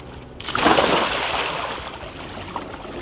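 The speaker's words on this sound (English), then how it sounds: "So I'm just gonna go ahead and jump in." A person jumps off a boat into shallow water near the shore, making a loud splash followed by steady sloshing and churning water that gradually settles.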